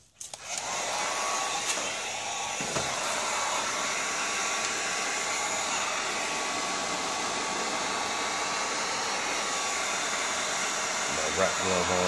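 A heat gun blows hot air over tint film on a car tail light, a loud steady whooshing hiss that starts abruptly and holds constant throughout, close to the microphone.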